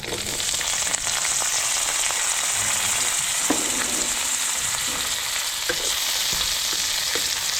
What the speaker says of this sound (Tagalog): Kapag lagay na tayo dito ng mantika, lalagay na po natin yung mga ricado.